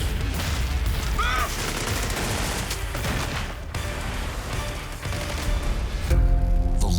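Gunfire from a staged naval action scene for the TV series The Last Ship, with dense bursts of shots and booms running steadily throughout, loud and busy, ending in a heavier low rumble.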